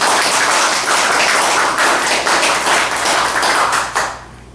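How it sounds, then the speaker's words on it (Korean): Loud, dense applause from an audience thanking the chairman and staff of a hospital at a university event, sustained for about four seconds before fading quickly. "임직원님들께도 힘찬 감사의 박수 부탁드립니다"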